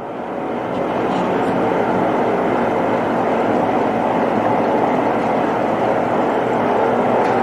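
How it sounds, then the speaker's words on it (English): Turbine blades spinning up inside a turbine fitted with blade locks, a loud, steady broadband whooshing roar that builds in the first second and then holds constant. "we can start to hear the blades moving now"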